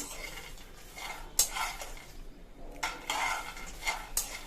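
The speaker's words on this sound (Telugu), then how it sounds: "ముందుకైతే పల్లీలు అయితే ఫ్రై చేసుకుందాము. ఇప్పుడైతే మెల్లగా ఫ్రై అవుతున్నాయండి." Peanuts frying in a pan while being stirred, the spoon scraping and clinking against the metal in irregular bursts over a soft, steady sizzle, close and fairly quiet, with no talking.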